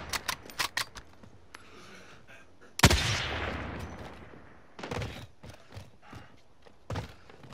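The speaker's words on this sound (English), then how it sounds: "Vehicle just gone past. Taking a couple of shots at it" A few gunshots fired at a passing vehicle in Call of Duty Warzone: short quick bursts, then one loud close crack that rings out and decays, followed by further scattered shots.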